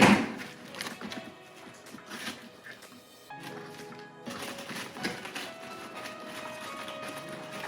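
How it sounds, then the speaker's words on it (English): A box cutter slices open a Mattel Barbie doll box, with faint scraping and scattered plastic and cardboard scratches close by and a quieter stretch midway. "use my box cutter."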